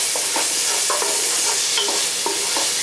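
Finely chopped garlic, five small cloves, goes into a hot pan for a Kerala-style mixed pasta masala, giving a loud, steady sizzle with repeated scraping stir strokes throughout and no talking.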